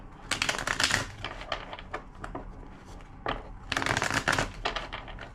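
Tarot cards are shuffled in two quick bursts, crisp rapid riffling flutters separated by a brief pause, close and fairly quiet.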